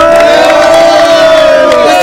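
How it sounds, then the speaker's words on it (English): A crowd at an outdoor volleyball tournament in Pennsylvania, loud sustained cheering and shouting that fills the short span, with voices dominating over any clapping. "Can we have some clapping, please?"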